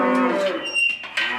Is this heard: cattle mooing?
yes